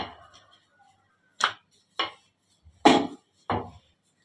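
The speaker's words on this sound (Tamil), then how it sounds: "நம்ம ஒரு உருண்டையை எடுத்து இதை சப்பாத்தி தேய்க்கிற மாதிரி தேய்ச்சிக்கலாம்." A wooden rolling pin works a ball of wheat dough flat like a chapati, giving four or five separate dull knocks and rolls against the board, close and clear in otherwise quiet surroundings.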